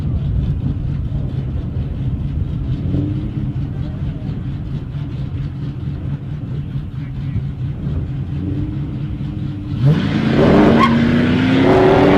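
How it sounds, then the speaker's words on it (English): Drag racing car launching down the strip at a test-and-tune session, starting as a steady rumble of engines idling nearby, then a sudden louder surge of rising engine tone as the car pulls away. "Nice launch there from Brock Langley"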